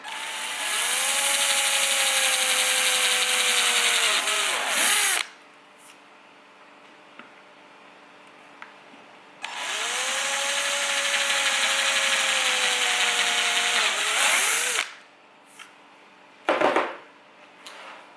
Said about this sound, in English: We can carry on drilling. So just constant sort of speed.